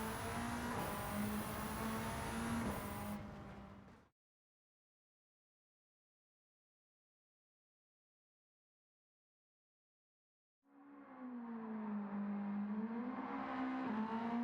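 Mitsubishi Lancer Evolution VIII MR GSR '04 engine in Gran Turismo 7, a loud sustained high-revving drone that cuts out to total silence for several seconds, then returns with rising and falling revs.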